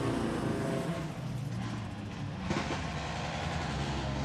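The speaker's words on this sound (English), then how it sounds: "In the background, you can hear the growl of Kristoffersson's car as he lines it up for a pre-warm" A rallycross car idles and growls on the starting grid at the Holjes World Rallycross of Sweden, a dense steady engine roar under crowd ambience, with no clear talk.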